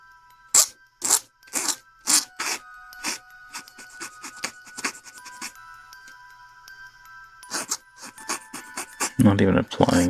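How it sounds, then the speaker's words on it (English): A file scrapes the plastic nubs off a Bandai 1/144 HG Seravee Gundam model kit in a run of short, sharp rasping strokes with brief pauses between them, close and clear. "it's making noise because the nub is getting caught in the teeth of the file there"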